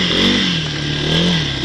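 A 1986 Yamaha DX225 shaft-drive ATV engine revs loudly and close while being ridden on bumpy ground, its pitch rising, dipping and climbing again with some mechanical clatter.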